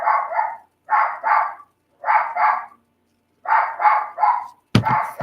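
A dog barks close and loud in repeated pairs and triplets of sharp woofs separated by short silences, ending with a harsher, louder bark.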